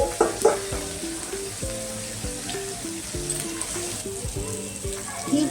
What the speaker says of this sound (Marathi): तर अशी आता आपण ही तेलावर परतून घेऊया